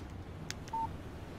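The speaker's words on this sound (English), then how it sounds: "Text message from Barry." A short electronic phone alert tone for a text message in the video game Alan Wake, a single clean beep following two faint clicks over a quiet ambient background.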